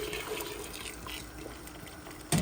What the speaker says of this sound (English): now I'm going to add some water into the coconut milk